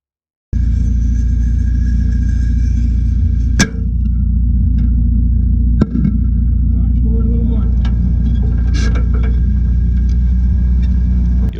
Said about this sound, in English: our Soviet fighting vehicle has arrived at the northern town edge.